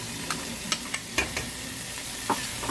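Tomatoes with ginger fry in a pan for vegetable pulav, a soft steady sizzle broken by several sharp scrapes and taps of a spoon stirring, close and fairly quiet, with no talk.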